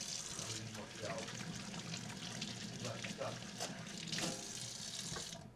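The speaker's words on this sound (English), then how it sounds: "Handling raw meat requires a little bit of hand washing with soap." A sink tap runs steadily while hands are washed with soap after handling raw meat, water splashing and trickling close by with small bursts as the hands move under the stream.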